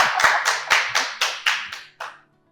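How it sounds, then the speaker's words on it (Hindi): Applause from a studio audience during a talk show: a short burst of sharp, rhythmic hand claps, about nine distinct claps that taper off and stop, heard close and alone. "तालियां हो जाए टीम"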